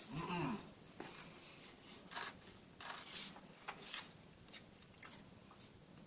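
Crisp bread from a Polish SR1 MRE being chewed close up, a series of short dry crunches in an irregular rhythm with faint background noise.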